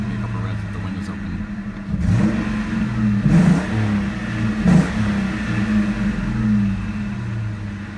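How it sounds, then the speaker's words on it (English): A 2001 Ford Mustang Bullitt idles with its hood up and windows open, then is revved three times, each blip rising sharply above the low, close idle before falling back. "Maybe a couple of revs with the windows open"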